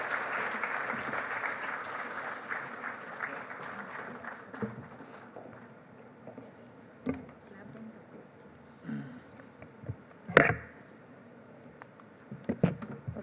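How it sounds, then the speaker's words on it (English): Audience applause after a medical memorial oration talk, a broad wash of clapping that is strongest at first and then thins into scattered claps, with some talking and a few knocks near the end. "Can we have a huge, huge round of applause for this extremely informative talk on the use of artificial intelligence?"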